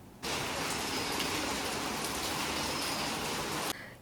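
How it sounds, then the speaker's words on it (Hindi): Heavy torrential monsoon rain pours steadily on a garden, a dense continuous hiss of downpour that starts abruptly and stays loud and even for several seconds before cutting off. "अभी ये देखिए कितना मूसलाधार बारिश हो रहा है।"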